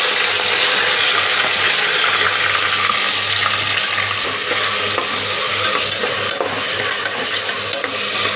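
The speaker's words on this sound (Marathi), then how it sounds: "मी ते तेल कुकरमध्ये टाकलेलं आहे ते व्यवस्थित आता गरम झालेलं आहे त्यात आपण टाकूया कढीपत्ता टोमॅटो आणि कांदा" Curry leaves, tomato and onion fry in hot oil inside a pressure cooker for mutton biryani, a loud continuous sizzle and crackle with stirring scrapes, close and steady.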